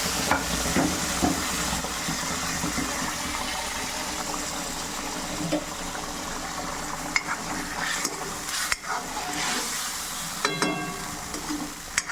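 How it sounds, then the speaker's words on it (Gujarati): Dhokli pieces drop into a hot tempering of asafoetida, fenugreek and curry leaves and are stirred, making a continuous loud sizzle with scattered clinks and scrapes of a spoon against the pot. "હવે આપણે ઢોકળી નાખીશું."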